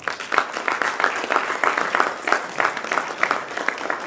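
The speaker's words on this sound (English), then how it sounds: "with a round of applause, let's make welcome Mr. Abubakar Suleiman" An audience at a formal launch event for a tertiary entrepreneurship scheme gives a round of applause welcoming a bank executive, the clapping fairly soft and loosely pulsing at a moderate distance, with no talk over it.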